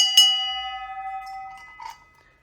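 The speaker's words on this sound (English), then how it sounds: "Nice brass bell, solid brass, good heavy weight. Got his original clanger inside." A solid brass hand bell with its original clapper is struck once, giving a bright ringing tone that decays slowly over a couple of seconds, followed by a faint second clink near the end.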